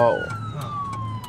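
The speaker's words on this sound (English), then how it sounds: "That is a fire truck." A fire truck siren wails past on the road, its falling tone sweeping down steadily over low traffic rumble, with a brief voice speaking nearby.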